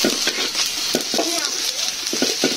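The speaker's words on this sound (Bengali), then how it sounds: "প্রথমে পেঁয়াজ মরিচ দিয়ে দেখি বেরেস্তা টাইপ হবে পেঁয়াজটা।" Onions and chilies frying in a pan for a crab dish, with a continuous close sizzle and the scrape and clink of stirring at irregular intervals.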